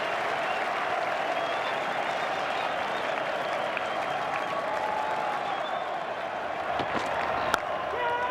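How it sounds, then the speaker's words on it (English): A large cricket crowd at Adelaide applauds Australia's win over England in the 2006/07 Ashes Second Test, a dense, sustained wash of clapping that holds steady and slightly distant throughout. "Listen to the crowd"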